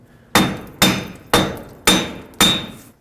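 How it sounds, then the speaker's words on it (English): Five loud, evenly spaced metal-on-metal hammer strikes ring out up close as a rear wheel bearing is driven off the knuckle of a 2001–2007 Toyota Highlander, each blow decaying with a ringing tail and no speech. "Now I'm just going to use my hammer and hammer the wheel bearing from all different directions"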